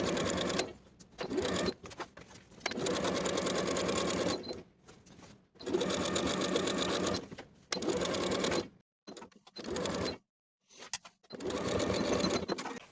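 Sewing machine edge stitching a plaid wool jacket, in repeated runs of rapid, steady needle chatter broken by short pauses and stops, close and clear with no talking.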